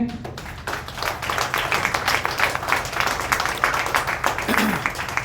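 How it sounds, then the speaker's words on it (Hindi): A meeting audience at a leadership training programme claps loudly and steadily throughout, a dense crowd of hands with a brief voice near the start. "आप सभी दोस्तों को मैं इस मीटिंग में आप अपने लिए जोरदार तालियां बजाएंगे"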